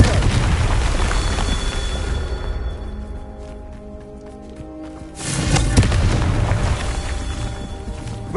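A Confringo fire spell blasting in the Hogwarts Legacy game, heard as heavy booming explosive bursts, loud and close, with a quieter lull before a second powerful blast.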